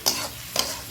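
Onions sautéing in a small amount of oil in a pan, soft sizzling with two quick bursts of stirring scrapes close by.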